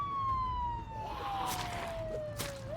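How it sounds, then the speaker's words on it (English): A vehicle siren in the zombie survival video game Project Zomboid wails as a single continuous tone that slides slowly downward, fairly loud and steady, with no talking. "We can probably turn off the siren, actually."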